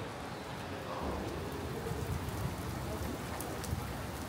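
Heavy rain pours down during a storm at the Dakar Rally 2025 in Saudi Arabia, a dense, continuous hiss drumming on surfaces with no voices.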